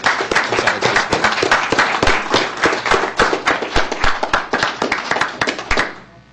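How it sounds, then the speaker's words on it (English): A crowd at a school district board meeting claps for retirees, giving loud, dense, continuous applause with sharp individual claps standing out before it cuts off near the end. "Can we give a round of applause to all of our retirees?"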